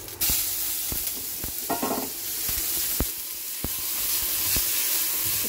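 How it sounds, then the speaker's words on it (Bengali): Ground spice paste sizzles and fries in a pan with five-spice seeds, dried chilli and bay leaves, a steady hiss broken by regular sharp scrapes and taps of stirring, close and fairly loud. "এবার দিয়ে দেব এই বাটা মশলাটা"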